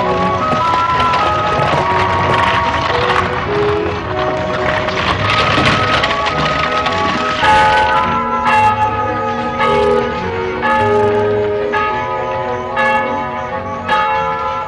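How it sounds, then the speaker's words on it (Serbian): A church bell rings for vespers, sounding loud and near with a steady run of overlapping, resonant strokes that sustain and blend throughout. "Baš je zvonilo na večernje"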